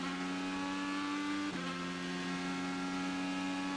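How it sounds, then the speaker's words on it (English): Honda IndyCar engine accelerating at the Indianapolis road course, a steady high-pitched whine with a sharp break midway where it shifts gear, then continues at a similar tone. "And listen to the gear shifting here."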